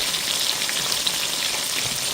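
Spicy honey barbecue chicken wings fry in a pan with a steady, close sizzle and crackle that carries on evenly throughout.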